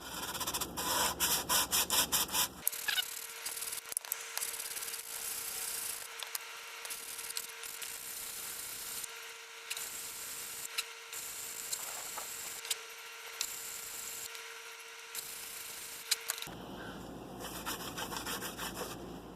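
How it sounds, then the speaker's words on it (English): Fine-grit sandpaper lightly sanding hardened epoxy during a pool cleaner repair, a continuous close rubbing scratch in repeated strokes with short pauses, no talking. "I'm going to take this fine grit sandpaper and give it a light sand"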